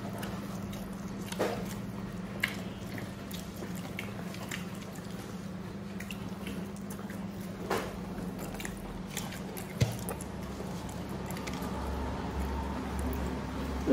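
Someone eating a home meal of bitter gourd and onion greens with oil and salt, with soft bites, squishy chewing and occasional small crunches close by over a steady low hum, no talking.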